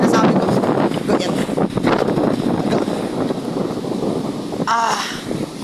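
Strong storm wind roars by the sea during a typhoon, buffeting the microphone in a constant rushing blast, with a voice talking faintly beneath it.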